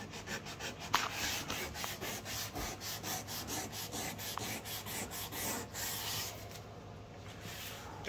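Oak grain filler is sanded by hand with steady back-and-forth rubbing strokes, close and even, repeating in a quick rhythm for several seconds.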